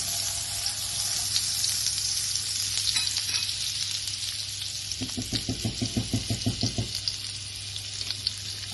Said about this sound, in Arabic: في الاثناء دي هحمر البصلة اللي هنحط نصها في قلبه ونصها على الوش